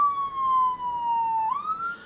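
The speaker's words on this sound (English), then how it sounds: "we got an ambulance outside going over to the next thing" An ambulance siren wails outside in Hawaii, a steady sustained tone that dips slightly and then rises as the vehicle passes, heard alone without talk.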